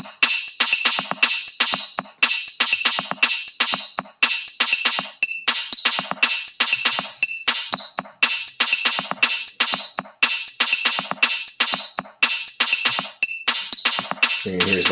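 Drum loops played back together in Soundtrap: a busy, bright percussion pattern of crisp hits and cymbal-like ticks repeating in a steady groove throughout, with a low thump near the very end.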